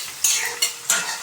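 Onions for pav bhaji fry in a pan with ginger-garlic paste, and three quick scraping stirs cut through a steady sizzle, heard close and loud.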